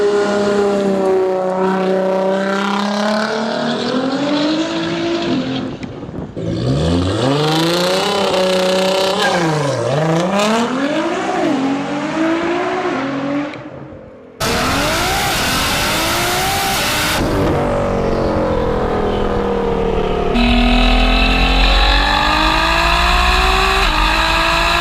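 A Nissan GT-R R35 fitted with a Boost Logic Quadzilla exhaust revs hard in several loud bursts, its engine note climbing and falling in sweeping pitches with crackling, raspy exhaust tone between cuts.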